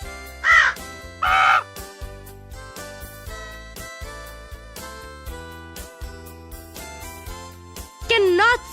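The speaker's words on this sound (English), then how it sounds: "Crow." A crow caws loudly in three harsh calls: two close together at the start and one near the end, each standing out over a light musical backing.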